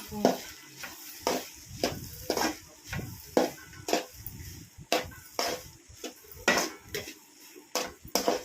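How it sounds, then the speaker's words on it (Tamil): Cooked rice stirred into sautéed vegetables in a pan for egg rice, a spatula scraping and knocking against the metal in repeated strokes about once a second, with a faint sizzle underneath. "இது கூடவே வந்து ரைஸ் போட்டு மிக்ஸ் பண்ணிக்கலாம்"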